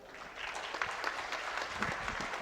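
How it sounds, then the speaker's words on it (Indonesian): Audience applause at a youth culture camp appreciation ceremony in Indonesia, a steady patter of many hands clapping, fairly quiet and distant, without speech. "Hadirin boleh tepuk tangan sekali lagi untuk para juara"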